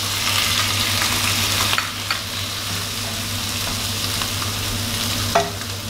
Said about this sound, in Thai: ทียมเริ่มหอมแล้วก็กุ้งครับใส่ลงไปเลย